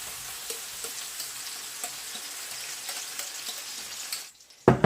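Batter for a quick skillet pizza poured into a hot frying pan, sizzling steadily and hissing at close range with small crackles throughout, then briefly dropping away before a sharp clatter at the end.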